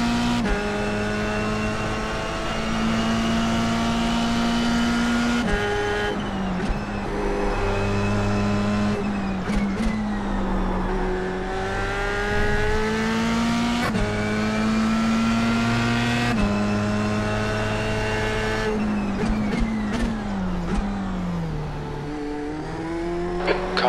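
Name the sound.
F3 race car engine at Suzuka in iRacing video game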